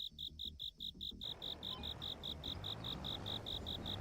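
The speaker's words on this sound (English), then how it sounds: "I'm just gonna move out of this area because that cricket is so damn loud." A cricket near a sugar cane field chirps loudly in an even, rapid pulse throughout, close and persistent over a rumbling engine-like background.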